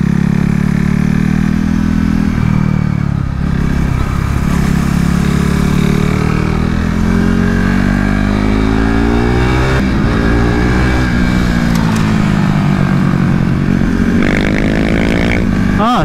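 KTM RC 390 Cup single-cylinder motorcycle ridden hard on a race track, loud onboard engine held in third gear with rising and falling revs, shifts and wind roar throughout.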